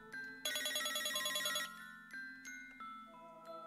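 A telephone rings in a video game with a bright, repeating electronic bell trill, followed by a few softer tones and clicks, clear and alone without talk.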